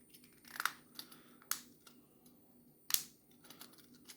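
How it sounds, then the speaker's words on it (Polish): Plastic parts of a Hachette Star 266 truck scale model snap and click into place by hand, a few sharp close clicks spaced apart with quiet handling between. "ładnie wszystko klikło."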